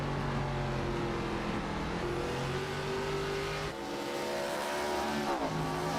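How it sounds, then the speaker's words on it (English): Late model stock race car at Slinger Speedway accelerating out of a corner, a loud continuous engine roar with climbing pitch, a brief lift and dip midway, then revving up again, heard over distant track noise. "You can hear him real loose pedaling that car coming out of the corner."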